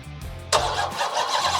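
A roughly 1,000-plus horsepower Dodge SRT Hellcat fires up with a quick cranking whir that bursts into a loud, close engine roar, then settles into a rumbling idle.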